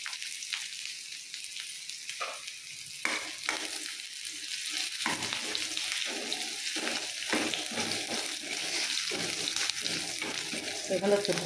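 Onions fry in a pan for a homemade mushroom curry, a steady broadband sizzle with occasional stirring scrapes, close and moderately loud throughout with no talk.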